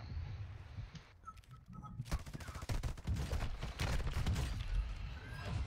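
Rapid automatic gunfire in a shooting video game, a steady stream of shots that starts after a quieter lead-in and keeps going to the end, fairly close and without talking.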